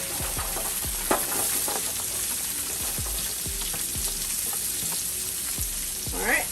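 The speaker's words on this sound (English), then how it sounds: "Scrape that off and throw in our onions." Onions sautéing in leftover pork chop oil in a pan, a steady close sizzle with repeated low scraping thumps of a spatula stirring through, no talking.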